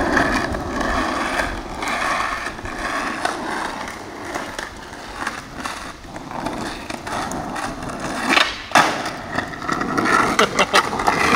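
A skateboard fitted with Bones bushings rolls in a straight line, its wheels giving a steady, close rumbling roar with a few sharper knocks and clacks from the board toward the end.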